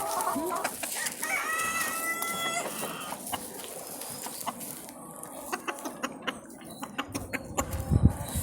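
A rooster crows and a hen clucks nearby, with scattered bird calls and soft farmyard rustling; sharp pecks and taps toward the end.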